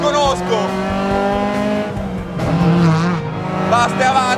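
A Fiat 127 rally car rebuilt toward Group 2 spec drives hard on a slippery, damp road, its engine revving and rising through gears close and loud while someone talks over it.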